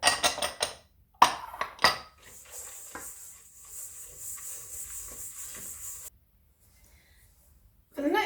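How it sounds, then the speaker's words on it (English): Oats, flour and raisins being mixed together in a bowl for flapjacks: a few knocks and clatters at first, then a steady soft scraping stir, then a quiet pause before a brief final knock. "we're going to put them in the bowl and then just mix them all together"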